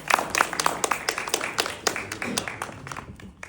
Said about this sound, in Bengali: আর একবার করতালি হয়ে যায়